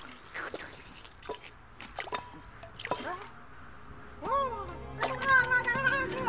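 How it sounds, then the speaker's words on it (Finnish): Water being drunk in a jungle-desert animated cartoon scene: wet dripping and squishy gulping sounds come in short bursts, with voice-like sounds and tones rising over them toward the end. "Pysähdytään juomaan vettä."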